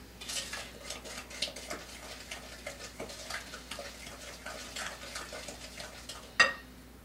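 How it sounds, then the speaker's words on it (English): Egg being stirred into cake batter in a mixing bowl, a steady run of soft, rhythmic scraping and tapping strokes close by, ending with one sharper clink against the bowl. "you add them one at a time. And you want to break it up and stir it in there"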